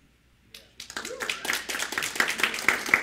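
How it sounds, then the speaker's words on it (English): Audience applause at a literary reading, starting after a brief silence and building into moderate, uneven clapping from a modest crowd, with some voices mixed in. "so that was like mediocre applause"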